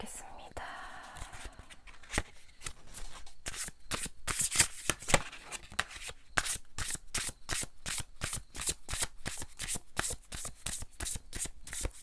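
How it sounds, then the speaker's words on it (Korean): Tarot cards shuffled by hand, a quick run of crisp riffling bursts that settle into a regular rhythmic slapping pattern, close and clear, with soft whispered speech early on. "카드 뽑겠습니다."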